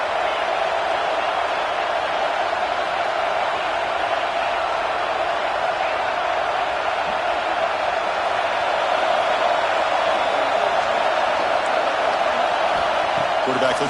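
A fired-up stadium crowd roars at a Texas A&M versus Oregon college football game, a steady, unbroken wall of noise with a commentator talking over it.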